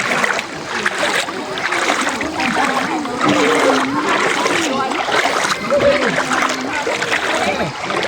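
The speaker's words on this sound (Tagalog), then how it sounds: "Nagtatampisaw." People splash and wade in a river, steady watery splatter running throughout with voices talking over it.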